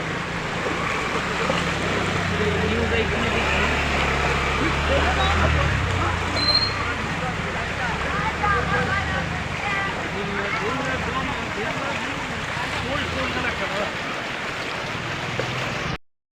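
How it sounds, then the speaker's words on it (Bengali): Steady broadband rushing of fast-flowing floodwater crossing a broken road fills the whole clip, loud and close, with gusts of wind buffeting the microphone. "দেখো বন্ধু এখানটা স্রোতটা কত, প্রেসার কি অবস্থা দেখো এখানটায়।"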